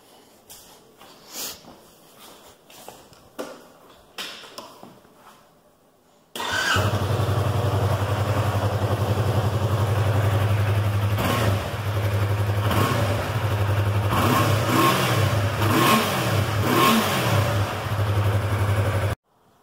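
A 2017 Yamaha R3 motorcycle with its stock exhaust starts up and then idles and revs loudly and steadily at close range, following a few quieter knocks and handling sounds, with no talk over the engine.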